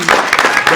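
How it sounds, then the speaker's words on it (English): A short burst of audience clapping for Larry, close and fairly loud, with uneven bright claps over a murmur of voices. "And so please give a round of applause, Larry."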